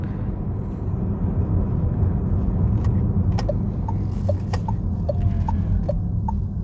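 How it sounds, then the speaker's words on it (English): Steady low road rumble fills the cabin of a 2024 Renault Megane E-Tech electric car as it drives along, with a few faint clicks and small ticks over the constant drone. "So yeah, quite a lot of road noise"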